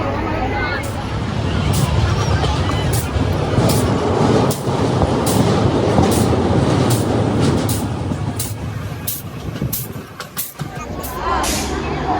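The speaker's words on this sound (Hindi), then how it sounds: "तो फाइनली CST की ट्रेन लग चुकी है" A crowded Mumbai local train bound for CST rumbles and clatters loudly and continuously, while passengers chatter in the background and a nearby voice talks over the din.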